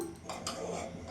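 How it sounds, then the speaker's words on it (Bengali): A wok is set down on a gas stove with a brief metallic clank against a steady low background hiss. "এখানে একটা কড়াই বসিয়ে নিয়েছি"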